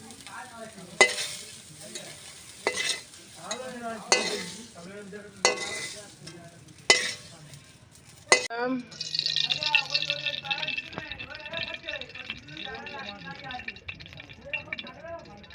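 Onions hitting hot oil in a pan and being stirred: scraping spoon strokes under a woman's speech, then a sudden louder burst of steady sizzling frying.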